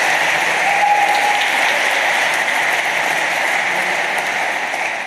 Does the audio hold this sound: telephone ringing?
no